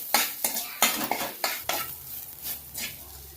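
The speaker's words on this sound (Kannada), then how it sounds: "ರುಚಿಗೆ ತಕ್ಕಷ್ಟು ಉಪ್ಪು ಹಾಕ್ಕೊಂಡು ಮಿಕ್ಸ್ ಮಾಡ್ಕೊಬೇಕು." Fried onions with salt stirred in a pan, a utensil scraping and clinking against the metal in five or six quick strokes while oil sizzles steadily underneath, then a softer low frying hiss.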